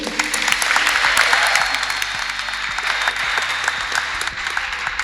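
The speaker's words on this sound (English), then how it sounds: "Ladies and gentlemen, a round of applause for Zulu Oyibo" Audience at a U.S. Consulate event clap for filmmaker Zulu Oyibo, a loud, sustained burst of many hands applauding in a large room, holding steady and fading only at the end.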